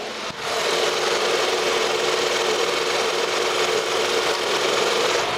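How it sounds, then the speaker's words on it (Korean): A bi-fuel car engine idles steadily under the hood with the air conditioning running, a constant whirring hiss, fairly quiet and even throughout, with no one talking. "엔진 문 열어놨고요 소리 한번 들려드릴게요"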